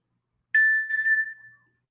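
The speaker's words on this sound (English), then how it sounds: "that's my phone going off here because people are chatting to me." A phone notification chime for incoming chat messages rings once, a clear bright tone with a short ringing tail, alone against near silence.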